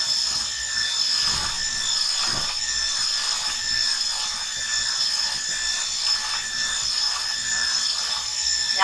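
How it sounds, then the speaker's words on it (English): Flour dough being stirred in a bowl, a steady scraping and rubbing texture that continues without break at a moderate, close level. "Keep stirring."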